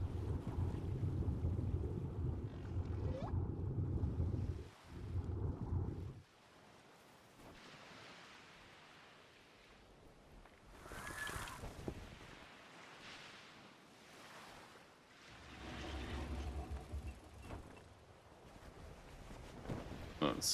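A ship sails the open ocean in ARK: Survival Ascended, with a steady wash of wind and water at first, then quieter stretches broken by rushing surges of waves and spray.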